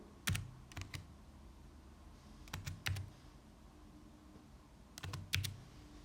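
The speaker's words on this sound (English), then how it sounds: "So for me, I'm just typing mine now." Quiet keyboard typing in small clusters of sharp clicks, with pauses between the groups against a faint room hum.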